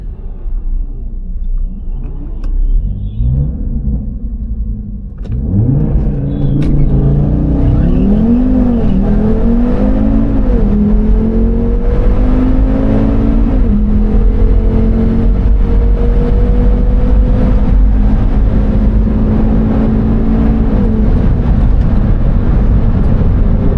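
A Mercedes C63 AMG 6.3 litre and an Audi RS3 drag race on a quarter-mile strip, engines rumbling at idle before a loud surge of revving and accelerating, with rising pitch through several gear changes as the cars pull away.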